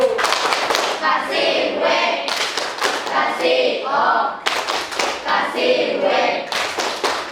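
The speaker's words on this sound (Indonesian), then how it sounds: "Oke, tepuk tangan." A class claps hands together in a room, with rapid, dense rhythmic clapping mixed with children's voices throughout.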